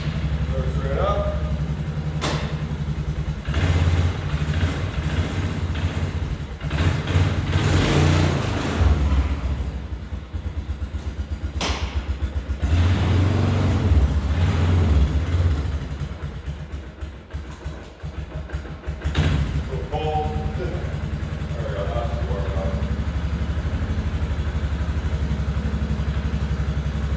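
Engine of a 2001 Polaris Sportsman 6x6 ATV, just rebuilt after a transmission repair, idles steadily close by on a cold Wisconsin day, with someone talking over the low, continuous rumble.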